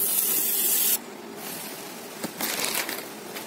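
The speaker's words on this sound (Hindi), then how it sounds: "तीन बड़ा स्पून हमने मैदा डाली है इसमें, ओके इसको हम भूनते हैं" Flour roasting in butter in a hot kadhai for white sauce pasta, giving a steady bright sizzling hiss that drops after the first second, then continues more softly with scraping stirs, close and alone.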